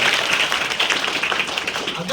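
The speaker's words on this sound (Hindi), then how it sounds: "जोरदार तालियां उस बेटी के लिए" Brief burst of audience clapping for a young girl cricketer at a talk on sports in life, busy and close, with some voices mixed into the claps.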